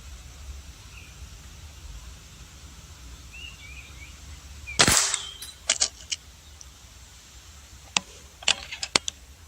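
A sharp, loud crack of a Greyhound T-Rex air rifle shot, followed by a few fainter impact clicks and then three more quick snaps, over quiet outdoor background.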